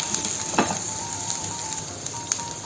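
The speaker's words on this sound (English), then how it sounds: "when the onion is become soft, we going to add here the chopped garlics" Chopped garlic sizzles in a pan with softened onion for chicken stroganoff, a close and steady frying hiss broken by sharp little pops and crackles, with no voices.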